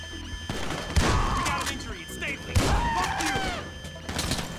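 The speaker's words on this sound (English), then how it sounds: "Four shots left for the shotgun" Shotgun fire in the video game GTA 5, with two heavy booming blasts about a second and a half apart amid game noise and some speech-like sounds.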